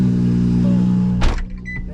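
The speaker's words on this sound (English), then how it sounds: "if we turn on the car" A BMW F22 coupe is switched on: a steady low engine hum, then a short loud mechanical whir and click as the car starts, settling to a quieter idle.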